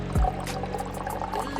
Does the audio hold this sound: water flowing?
yes